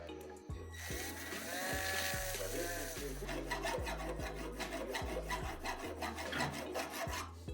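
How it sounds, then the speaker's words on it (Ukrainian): Rough uneven metal on a scooter part being filed down by hand, a loud close rasp in rhythmic back-and-forth strokes of about two per second. "після чого я вирівняв та сточив усі нерівності"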